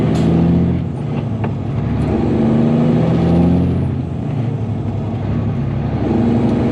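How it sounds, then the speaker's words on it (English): A car engine rumbles steadily close by, a low drone that swells a little midway before settling. "This car's coming."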